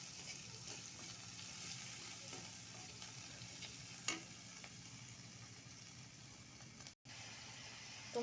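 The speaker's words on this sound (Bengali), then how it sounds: "তো মশলাগুলো ভালোভাবে কষিয়ে নিলাম।" Spices fry in a pan for a mixed small fish curry, a low steady sizzle with a single sharp clink partway through, quiet and close with no talk.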